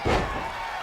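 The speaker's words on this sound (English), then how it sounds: "kicks his knee right into his midsection as he slams Shiro's head onto the mat." A wrestler is slammed onto the mat in a wrestling video game, giving one loud, heavy impact near the start that settles into steady arena crowd noise.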